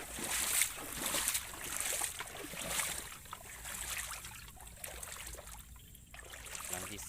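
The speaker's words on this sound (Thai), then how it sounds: "มีน้ำไหลครับเต็ม" Floodwater flowing past fishing lines set with earthworm bait during a rainy-season flood, a quiet continuous trickling and rushing with small splashes, heard faintly and alone.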